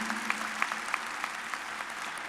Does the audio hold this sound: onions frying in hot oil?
no